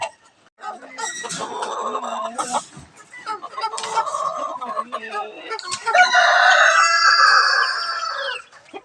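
Hens and eight small chicks cluck and squawk loudly up close, with high chirping and a rooster-like crowing call near the end, busy and continuous.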